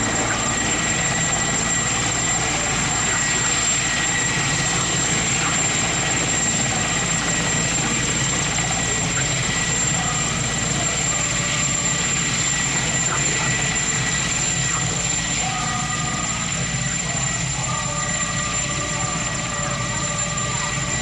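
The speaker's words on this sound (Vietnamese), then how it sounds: "Trực thăng đang trở lại vị trí đầu hàng và bay treo để hạ cánh." A Mi-8 helicopter hovers nearby to land, its engine and rotor noise holding a constant, heavy roar throughout without any talking.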